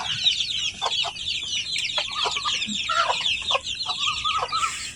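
Chickens cluck repeatedly inside a fenced rooftop garden enclosure, a lively overlapping series of close, fairly loud clucks and short calls with steady outdoor background hiss.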